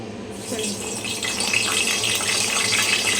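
Stuffed eggplants for a gutti vankaya curry go into hot oil, raising a steady, close sizzle of broadband hiss that builds slightly and runs without talk.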